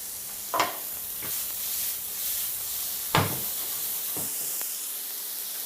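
Shallots hit a frying pan of browned, wilted mushrooms with two sharp clattering drops, then a steady hiss and sizzle continues underneath with occasional stirring scrapes.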